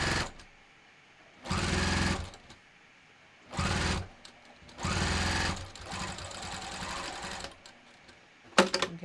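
A sewing machine stitches a 3/8 seam on a fabric wallet in loud whirring bursts, four runs of stitching separated by quiet pauses, ending with a short sharp clack.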